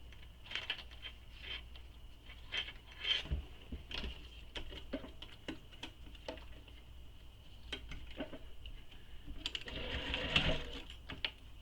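A sewing machine bastes a handbag lining to its exterior, faint and quiet, in short stitching bursts and light tapping with a thin steady whine, and a louder run near the end.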